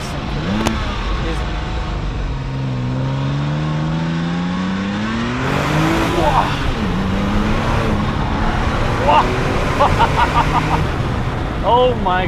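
A Porsche 996 Turbo with a manual gearbox accelerates hard in second gear, its engine note rising loudly and continuously from the cabin, with a person speaking over it.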